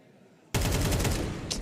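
AK rifle gunfire in Counter-Strike 2, a sudden loud burst of rapid automatic shots that starts abruptly out of quiet and holds steady for over a second.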